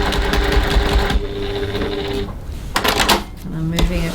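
Sewing machine stitching and back tacking a seam on a sling bag, a close, loud run of rapid needle strokes that pauses briefly, then resumes in short bursts with clicks.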